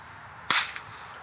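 An Alias Gem Sapphire airgun fires a single copperhead BB with a sharp, loud crack that snaps and quickly decays, followed by a faint second tick, alone with no talking.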